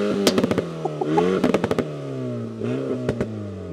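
An Alpine A110 GT's 1.8-litre four-cylinder engine, stationary, revved in a series of sharp blips that rise and fall, loud and close, with crackles and pops in the gaps and no talking.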